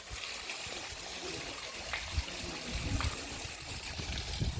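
Stream water trickling at Talakaveri, the source of the Kaveri river, a soft steady flow with faint splashes, constant and fairly quiet throughout.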